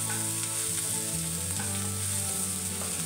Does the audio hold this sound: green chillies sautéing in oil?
yes